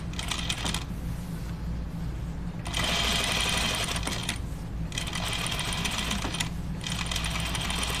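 A sewing machine stay stitches a men's Fairfield button-up shirt, running in loud, rapid bursts with short pauses between runs and a steady motor hum underneath.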